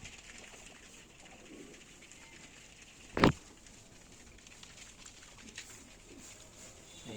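Pigeons guarding their chicks at a nest give soft, low cooing against a quiet background, broken once midway by a short, sharp burst of wing flapping close by.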